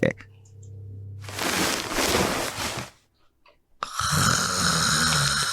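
A sleeping man snores in a house, one long rough inhaled snore in the middle, with a brief quiet gap and other louder noise following.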